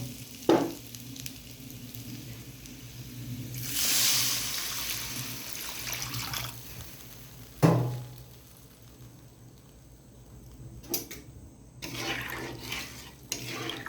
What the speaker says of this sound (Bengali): কষিয়ে নিয়ে জল দেব